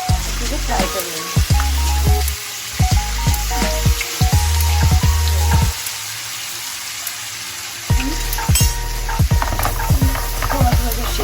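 Kepsa rice frying in a pan over a low flame gives a steady close sizzle and patter, with repeated clatters and shakes of the pan across it, briefly quieter in the middle before resuming.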